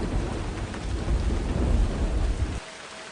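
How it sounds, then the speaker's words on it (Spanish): Thunder sound effect in a mystery story, a deep rolling rumble mixed with steady rain that swells, then cuts off abruptly near the end, with no voices. "Un relámpago sonó y la hizo estremecerse."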